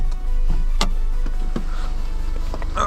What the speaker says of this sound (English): I have no idea why is the ticking sound